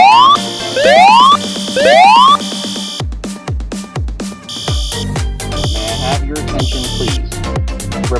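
Fire alarm sounding in the Bloxday Inn Suites hotel in Roblox, a loud electronic alarm with rising whoop tones followed by rapid repeating beeps and pulses.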